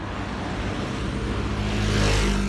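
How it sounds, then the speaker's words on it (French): Cars drive past on a cold road, with a steady roar of tyres and engines swelling slightly toward the end, continuous and fairly loud with no voices. "Là, il y avait personne et là il y a trop de voitures."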